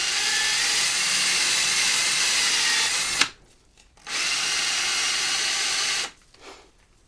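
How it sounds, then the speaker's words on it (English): Sandpaper of 120 grit spun on a power drill grinds against a wooden tooth fairy box in a loud, close, hissing whir. It runs for about three seconds, stops briefly, runs for about two more, then cuts out again. "just put it on the drill and just start wearing it down"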